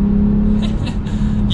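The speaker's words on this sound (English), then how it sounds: "You can hear a little bit more of that exhaust slash engine noise, which is really nice, of course, putting it into sport mode." A 2021 Lexus ES 350 F Sport in sport mode hums with a steady, loud engine and exhaust drone that swells slightly under light throttle, heard close from inside the car without speech.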